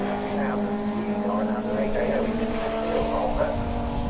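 Race cars run at Snetterton circuit, their engines a steady droning roar with tonal whine throughout, heard at a distance under a commentator's continuous voice.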